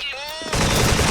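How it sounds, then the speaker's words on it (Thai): G3A3 battle rifle fire in a first-person shooter game (Special Force), a sustained loud burst of rapid shots erupting suddenly after a brief tone. "G3 มันเสียงยิงมันเป็นเอกลักษณ์มากเลยเพื่อนครับ"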